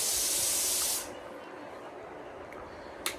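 A hot kitchen pressure cooker vents steam in a loud, sharp hiss for about a second before it drops away to a low background rumble, with a brief click near the end.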